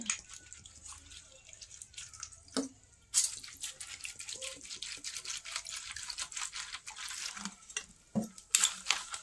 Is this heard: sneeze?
no